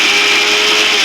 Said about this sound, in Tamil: இவ்வளோத்தையும் போட்டு கொஞ்சம் ஒரு கரகரப்பாட்டு அரைச்சி எடுத்துக்கிடணும்